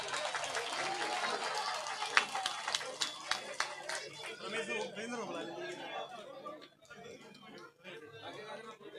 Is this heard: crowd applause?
yes